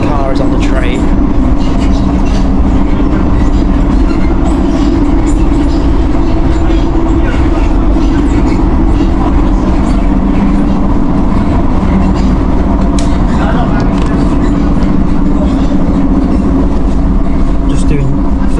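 Rumbling rail rolling noise inside a Eurotunnel shuttle train carrying a Toyota GT86, a steady low drone with faint rattles and clatter throughout, voices talking over it.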